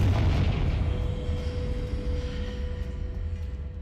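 A Confringo spell in Hogwarts Legacy goes off as a loud fiery explosion, a heavy boom that rumbles and decays over several seconds with no speech.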